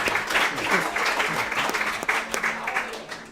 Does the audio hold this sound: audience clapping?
yes